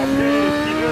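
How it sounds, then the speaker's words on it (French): A racing motorbike at a hill climb event downshifts while the rider blips the throttle, a loud, close, high-pitched engine wail that rises and falls quickly within a single second. "il rétrograde en donnant des coups de gaz"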